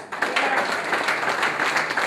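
An audience at a political meeting in Tunapuna claps for the Mayor of Chaguanas, producing dense, steady applause of many hands that fills the whole stretch at an even, moderately loud level.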